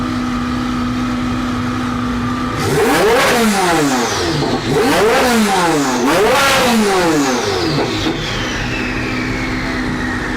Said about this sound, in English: I love that we have a twin turbo Z06 that's loud.